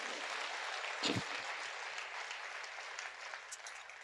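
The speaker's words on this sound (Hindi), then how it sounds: "आप चाहें तो उनके लिए तालियां बजा सकते हैं।" Faint, steady applause from the audience at a Hindi comedy poetry event, with a soft continuous wash of clapping heard from a distance throughout.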